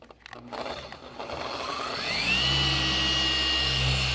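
Rupes BigFoot polisher spinning up against car paint, a whirring motor hum that rises in pitch and loudness, then settles into a steady close drone with a faint scraping whine.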